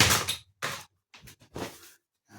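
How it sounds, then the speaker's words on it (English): A door swings open, with several separate knocks, rattles and scrapes in short bursts and gaps of silence between them, close and fairly loud. "have the door open for a minute round here"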